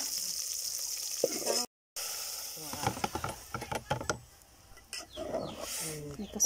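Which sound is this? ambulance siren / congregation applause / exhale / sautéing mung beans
sautéing mung beans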